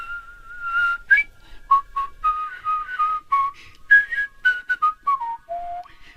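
A man whistles a short, lively tune as a recorded whistlegram, clear pure melodic notes in quick phrases, close and alone.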